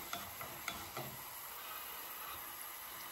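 A5 Wagyu ribeye sizzles in a pan with a soft, steady hiss, and a few light knocks and scrapes come near the start; no one speaks.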